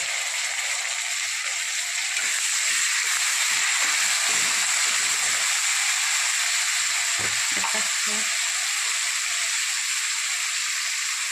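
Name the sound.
tomato added to frying onions, sizzling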